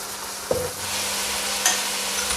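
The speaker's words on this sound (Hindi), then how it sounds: "थोड़ा लहसुन को भी फ्राई करते हैं।" Garlic fries in a pan while a Pakistani stuffed karela and keema dish is cooked. A steady, close sizzle runs throughout, with a brief stir or clink near the start.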